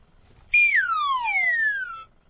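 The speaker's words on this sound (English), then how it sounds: "A wacky whistle." A wacky, cartoonish slide whistle: one loud two-second tone that rises a little, then glides steadily downward, sounding alone and close.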